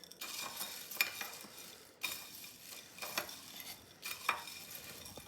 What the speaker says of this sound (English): And then we're gonna mix it with the spoon.